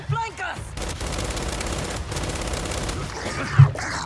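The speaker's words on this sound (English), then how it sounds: "Fire rate on this GL Lancer is insane." Rapid automatic fire from a GL Lancer in the video game Gears 5, a dense continuous burst lasting several seconds with a loud blast near the end.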